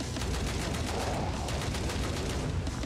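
Sustained rapid gunfire from a heavy-flash weapon in the shooter Hellbound, a dense continuous stream of loud shots with no talking.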